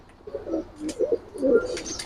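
Old Bagha breed pigeons cooing close by, a few soft throaty coos in quick succession with faint chirps behind, alone without talk.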